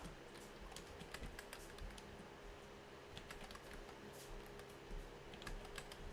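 Fingers tap quickly on a computer keyboard in irregular bursts of light clicks, close but quiet over a faint background hum.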